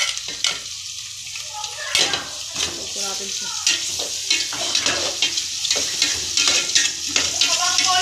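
Shrimp frying in a pan for ginisang mais, with steady hissing sizzle and repeated scraping stirs of a utensil against the pan, close and fairly loud, no talking.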